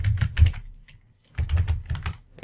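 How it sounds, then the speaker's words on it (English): Quick bursts of keystrokes on a computer keyboard, a short flurry of clicks, a brief pause, then another flurry, close and clear. "and type in localhost."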